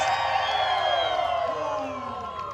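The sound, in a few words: crowd cheering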